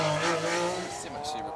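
Sponsored Porsche rally car on a stage of the Argyll Rally, its engine roaring close by for a brief moment with tyre noise, a steady loud drone under a voice talking over it.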